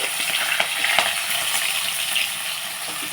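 Onions and green chilies frying in a hot pan for a broad bean curry, giving a steady, close sizzle with small crackles and pops throughout.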